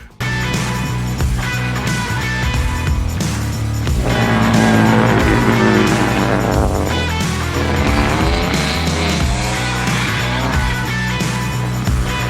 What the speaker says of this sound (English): Yeah, a little drifting now too.